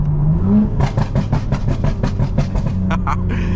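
A BMW G82 M4 with a loud exhaust pops and crackles in a rapid string of sharp bangs over a deep engine drone while downshifting into second, followed by a couple of final louder cracks.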